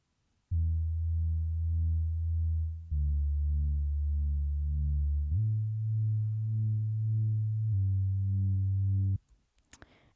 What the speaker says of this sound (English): There's a bass.